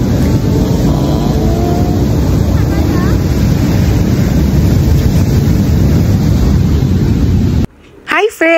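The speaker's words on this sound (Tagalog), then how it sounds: "Tingnan niyo yung agos ng dagat. Napakalakas." Strong sea currents and ocean waves at sunset on a La Union beach roar steadily and loudly up close, heavy with wind buffeting the microphone. The noise cuts off abruptly near the end.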